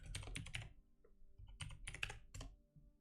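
Typing on a computer keyboard during an online game session, heard as close, quick clusters of plastic key clacks in short bursts with brief pauses between, and no voices.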